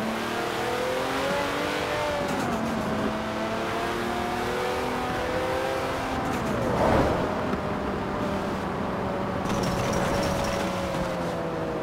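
Lamborghini Aventador engine in Forza Horizon 4, played online with a Logitech G920 wheel: a sustained high-revving tone that climbs and falls across gear changes, with a sharp sweep near the middle, loud and continuous under game ambience.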